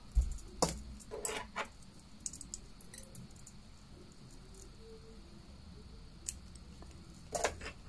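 A few crisp snips of scissors cutting knitting yarn on a scarf project, sharp isolated clicks near the start and end over a quiet background.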